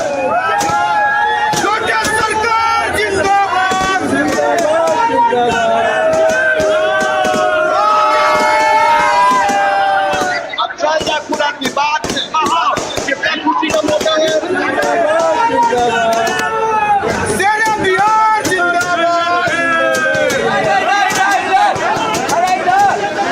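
A large, dense crowd of supporters of Anant Singh gathered at his residence, shouting and cheering continuously with loud chanting voices packed together close by for the whole stretch.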